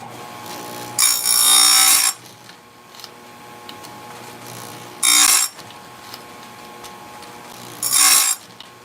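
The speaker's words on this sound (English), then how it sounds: "Sort of fun sharpening chains if you got a nice setup." A chainsaw chain is ground on a Stihl USG grinder in three bright, harsh grinding bursts, one long and two short, with a quieter motor hum running between them.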